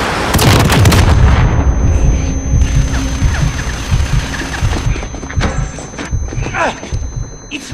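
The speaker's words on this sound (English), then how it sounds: "Missiles incoming." Incoming missile strikes in a Modern Warfare game on the Going Dark mission, heavy booming blasts and rumbling gunfire filling the opening seconds, then fading into scattered impacts and clatter beneath shouted voices.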